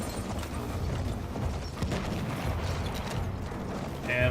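Horse hooves clop steadily in the World War I video game Battlefield 1, a continuous rhythmic clatter mixed with creaks and game noise, with no talking.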